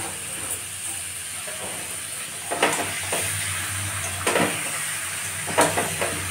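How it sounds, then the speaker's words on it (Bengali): Meat sizzling in a pan over a gas flame: a steady frying hiss with a few louder crackling bursts as the pieces are stirred, and no talk. "গ্যাসটা উঠতে ভাজতে হবে মাংসটাকে।"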